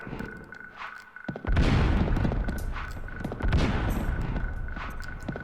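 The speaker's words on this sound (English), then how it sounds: "these explosions are kind of, they look great" Explosions in the video game Abe's Exoddus, a sudden loud blast followed by rumbling, crackling bursts and a second swell of booms, with a steady tonal hum running underneath.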